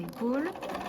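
A sewing machine stitches the second shoulder seam of a sewn top, a short close burst of motor whir with a voice talking over it.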